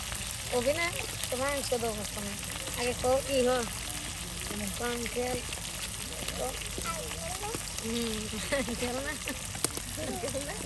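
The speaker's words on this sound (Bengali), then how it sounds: "দেখুন এই যে মাংসগুলো কিন্তু এখানে ভেজে দেওয়া হচ্ছে।" Chicken meat frying in a pan in a village kitchen, a steady broadband sizzle running throughout beneath a voice talking over it.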